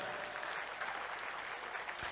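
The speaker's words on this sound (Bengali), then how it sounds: "তো নিজের জন্য একবার জোরদার হাততালি।" Sustained audience applause fills the hall as a motivational speaker urges the crowd to clap for themselves, a dense, steady wash of many hands with no voices over it.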